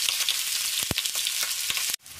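A supermarket frozen salmon steak pan-fries on high heat with a loud, close, continuous sizzle and a few sharp pops. The sound drops away abruptly near the end.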